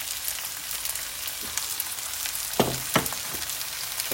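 Carrots and peppers fry together in a pan with a continuous close sizzle, broken by a few soft knocks and stirring scrapes near the end.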